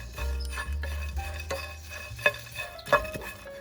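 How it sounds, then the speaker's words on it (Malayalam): Sun-dried shrimp are dry-roasted and stirred in a pan, giving soft scraping and a light sizzle broken by a few sharp clinks of the utensil against the pan, with a low steady hum underneath. "ഇതൊന്ന് ചൂടാക്കിയെടുക്കാം"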